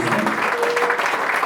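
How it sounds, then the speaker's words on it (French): Congregation applauding to acclaim Jesus at a church service, a dense, steady wash of clapping from many hands filling the whole moment. "Est-ce que nous pouvons acclamer Jésus?"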